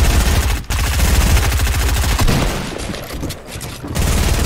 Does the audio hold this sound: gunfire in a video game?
yes